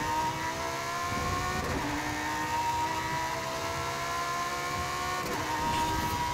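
A Lamborghini Super Trofeo race car in Forza Horizon 5 drones on at a steady high rev, loud and close throughout, with brief shifts in pitch and no talking.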